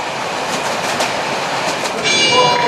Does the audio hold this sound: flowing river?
no